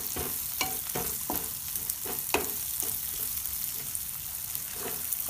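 Onion pieces and green chillies fry in a pan with a soft continuous sizzle, while a spatula scrapes and stirs in a series of sharp, irregular clicks and taps.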